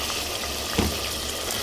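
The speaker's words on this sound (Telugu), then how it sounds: "ఆనియన్ ఫ్రై అయిపోతుంది" Onion and tomato fry steadily in a pan for tomato rice, a dense, even sizzle that holds from start to finish with no voices.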